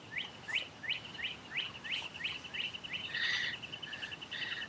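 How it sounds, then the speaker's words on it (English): Birds sing in a New Jersey park, a repeated series of bright chirps in quick rhythm followed by louder warbled notes, close and clear over soft background hiss. "These birds around here sure are sing-songy."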